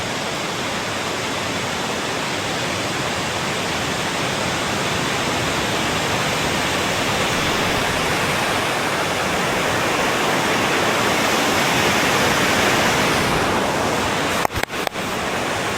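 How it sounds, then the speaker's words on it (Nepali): Steady, loud roar of a waterfall at Krokken near Tromsø in Arctic Norway, a broad unbroken rush of falling water filling the whole stretch, with a couple of brief knocks near the end. "यो चाहिँ यहाँको झरना हो"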